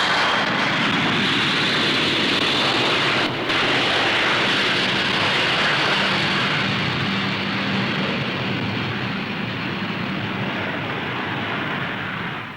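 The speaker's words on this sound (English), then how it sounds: "After a slow fly past, its four Bristol Siddeley Olympus jets hurl the huge machine into the sky." Delta-wing jet bomber with four Bristol Siddeley Olympus jets taking off at the Farnborough Airshow, a loud sustained roar of jet engines that holds steady and slowly fades over about twelve seconds.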